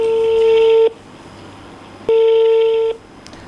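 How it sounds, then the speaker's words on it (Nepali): Ringback tone of an unanswered telephone call: two long, loud, steady ringing tones of almost a second each, separated by a pause of about a second over faint line hiss. "फोन उठेन, हामी फेरि एकछिन पछाडि उनलाई फोन सम्पर्क गर्ने कोसिस गर्नेछौँ"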